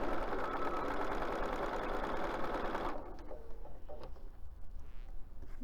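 A sewing machine runs steadily, stitching the hem of a basket, loud and close with a continuous whirring drone for about three seconds before slowing into lighter, uneven clicks and ticks.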